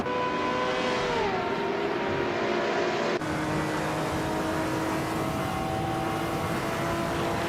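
A 2015 Chevrolet Corvette C7R race car engine in a racing video game drones steadily at high revs, its pitch dropping on a gear change, then holding a sustained roar throughout.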